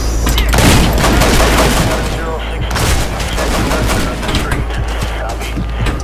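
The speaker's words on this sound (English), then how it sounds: "That's right, I'm shooting people." Rapid, loud bursts of gunfire from shooting people in the violent video game Hatred, heard as dense overlapping shots with a booming low rumble throughout, some game sounds mixed in.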